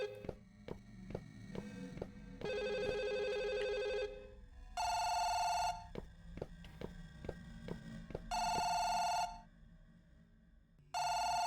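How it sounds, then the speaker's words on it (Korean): A telephone rings several times in separate electronic bursts of trilling tones with short gaps between them, while sharp clicks and a low hum continue underneath in a quiet room. "바로 전화가 오지?"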